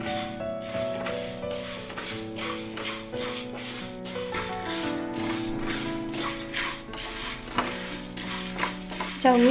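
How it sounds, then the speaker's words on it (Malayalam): Sago pearls roasting dry in a pan for a banana-blossom payasam, stirred steadily so a spoon scrapes and rattles against the metal over a light continuous sizzle for nearly ten seconds. "ചൗവരി നന്നായി വറുത്ത് കഴുകി എടുക്കണം നമ്മൾ വറുത്തിട്ട് കേട്ടോ"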